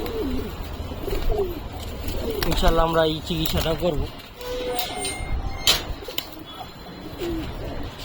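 Pigeons coo softly in the background, including pigeons with a wing ailment, while someone speaks close by; a louder patch of cooing swells midway.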